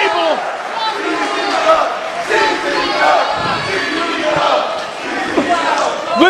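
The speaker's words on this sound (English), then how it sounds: "Listen to the crowd chanting CZW" Wrestling crowd at a CZW Proving Grounds 2011 junior heavyweight show, a loud dense mass of voices shouting and chanting in rhythm, sustained throughout with cheering swells.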